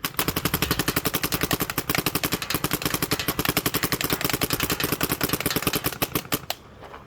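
A paintball marker with a loader fires in a long, rapid, steady burst of sharp pops lasting most of the stretch, loud and close, stopping abruptly near the end.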